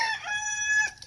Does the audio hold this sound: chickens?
yes